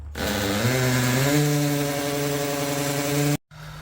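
A power drill whines steadily for about three seconds, its pitch rising slightly as it bites in, then cuts off abruptly.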